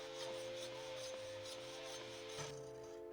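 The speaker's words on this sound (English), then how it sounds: "this is our file, which we'll be using to sharpen the cutlass, which is new as well. And here is the sharpening process." A metal file rasps along the blade of a new cutlass, sharpening it for pruning an oil palm; faint, rhythmic rubbing strokes repeat about every half second.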